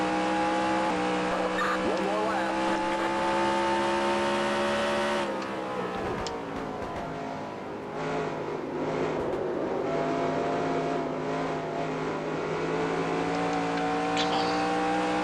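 A NASCAR stock car engine in NASCAR Racing 2003 at the Subway 400 drones at high, steady revs, close and loud, dipping briefly as it shifts through a corner before climbing again.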